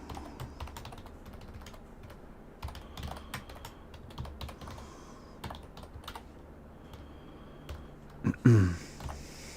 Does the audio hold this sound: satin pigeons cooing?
no